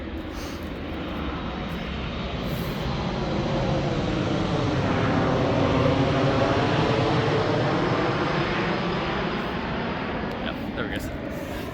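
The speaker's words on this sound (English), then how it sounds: "Apologies about the plane." Airplane passing overhead in an outdoor Danish woodland setting, a broad, loud engine roar that swells toward the middle and slowly eases off, with a brief voice near the start.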